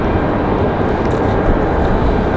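JetBlue airliner arriving from Orlando at Raleigh-Durham airport, a loud, close, steady engine roar filling the short span without a break.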